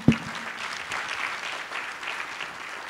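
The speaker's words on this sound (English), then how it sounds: "he deserves a round of applause" An audience at a judicial candidates forum applauding Judge Robert Bonner, a sharp first clap followed by steady, moderately faint clapping from a room of people.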